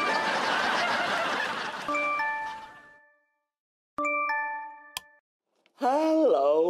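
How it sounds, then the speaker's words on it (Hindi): An electronic phone ringtone chimes in short bursts of bright tones separated by silence, followed by a voice starting up. "फोन उठा, फोन उठा, कितना बोलता है"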